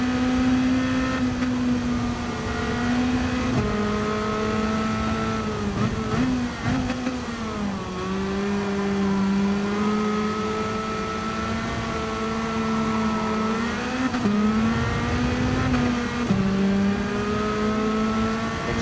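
Race car engine in Gran Turismo 7 on a GT7 Spec II weekly challenge, a steady loud drone that rises and falls in pitch as the car brakes and accelerates through corners, continuous with no talk.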